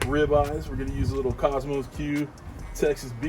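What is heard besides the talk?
No distinct noise like a dog, phone or traffic.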